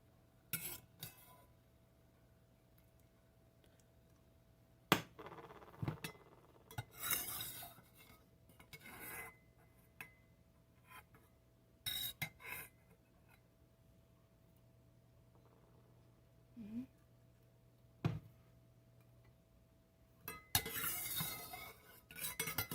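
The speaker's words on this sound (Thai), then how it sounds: "ทีนี้เราก็ตักดอกอัญชันออกเลยนะคะ" Butterfly pea flowers scooped from a pot with a metal utensil in a kitchen, giving scattered, separate clinks and scrapes against the pot, fairly close, with quiet pauses between them and no talking.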